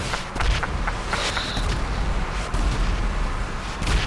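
Rockets exploding in Grand Theft Auto V, a busy barrage of booms and blasts rumbling continuously with several sharper hits scattered across, loud and close, with no talk.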